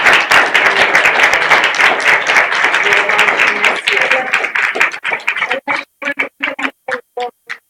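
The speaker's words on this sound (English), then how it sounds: "Alicia deserves a huge round of applause" Applause for a colleague at a Hudson River Park board meeting: a dense crowd clapping steadily for several seconds, then thinning into a few scattered, separate claps that fade out near the end.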